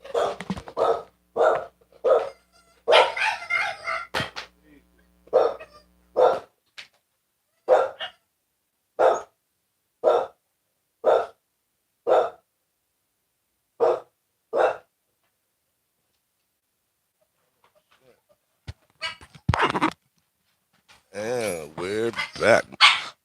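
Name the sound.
dogs barking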